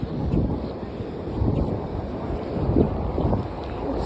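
Wind rushes steadily at a beach with waves surging in the background, a broad continuous roar with gentle swells in loudness and no speech.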